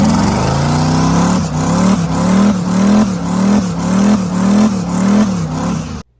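A twin-turbo LS-powered 1955 muscle car roars through a burnout, its engine revving hard in repeated surging pulses, loud and close, with no voices, before cutting off abruptly at the end.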